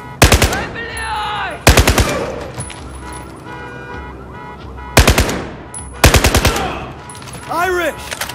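Bursts of automatic machine gun fire in a Battlefield 4 combat scene, several loud rapid volleys separated by pauses, with shouted voices and whooshing effects between them.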